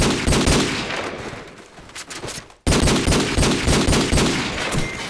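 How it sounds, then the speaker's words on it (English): Rapid video game gunfire, loud bursts of automatic shots crackling densely throughout, briefly cutting out midway before resuming at full intensity. "You're shooting me, it takes 100 bullets"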